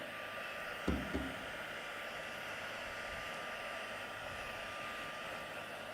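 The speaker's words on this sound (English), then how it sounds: "So heat tool that again." Craft heat tool drying ink on a papercraft project, a steady close whooshing blower hum running the whole time, with a brief knock near the start and no talk.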